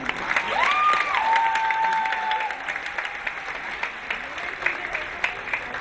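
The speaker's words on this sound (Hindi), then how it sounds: "इन सब के लिए हो जाए जोरदार तालियां" A crowd applauds the finalists of a competition with loud, continuous clapping, while a tonal whistle or cheer rises briefly above it early on and a voice carries faintly over the noise.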